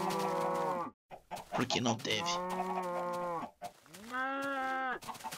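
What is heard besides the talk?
cattle mooing in Minecraft video game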